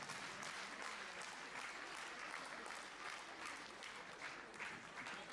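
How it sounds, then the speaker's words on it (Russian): Audience applause at a live concert performance, steady dense clapping filling the whole stretch at a moderate distance with no voices over it. "Ой, аплодисменты хотите, не хотите?"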